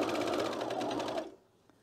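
A Juki sewing machine stitches a cardigan in a fast, even run of needle pulses, close and fairly loud. It stops abruptly partway through and leaves near silence.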